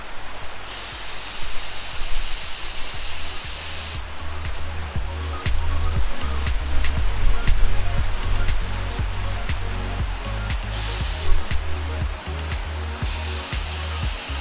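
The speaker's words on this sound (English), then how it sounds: "we want to steam and pull at the same time." A handheld steamer hisses steadily as car window tint is steamed and peeled off the glass, a loud continuous spray that cuts out briefly twice, with a rhythmic low pulsing from the machine underneath.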